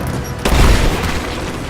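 Sustained heavy gunfire during a fight in the abandoned mines of the Rise of the Tomb Raider video game, with a dense, booming barrage that swells sharply and then continues as a loud, constant roar.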